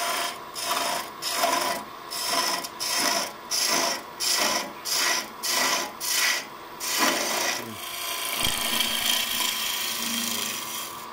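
A skew chisel cutting a spindle on a wood lathe, making rhythmic scraping passes about a second apart that give way to a steadier whirring hiss, close and with no talk.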